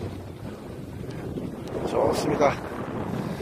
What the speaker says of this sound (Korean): 바람이 좋아서 메인세일과 집세일을 다 쫙 활짝 펴고 풀세일을 하고